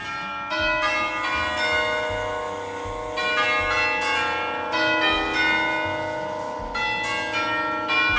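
Clock bells chime in a clock museum in Punta del Este, a sustained, layered ringing of several bells with rich overtones, struck again in loud waves every second or so and left to ring alone.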